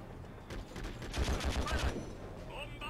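Rapid bursts of gunfire ring out in the video game Conflict Desert Storm 2, a dense crackling fusillade with deep booms at the low end, loud and continuous across the clip.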